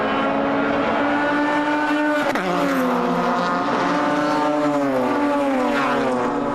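Pro 7 race cars at a retro motorsport event sweep down the front straight in a continuous, loud engine drone, harmonic pitches bending and shifting as several cars pass in close succession.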